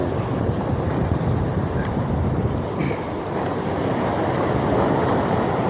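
Strong wind sweeps over the water along a rocky shoreline, roaring steadily with heavy gusty rumble close to the microphone and no voices.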